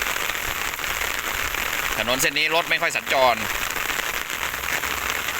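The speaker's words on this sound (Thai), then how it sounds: "ฝนตกหนักด้วยนะ" Heavy rain pours as a constant hiss over a quiet road, with someone speaking briefly over it midway.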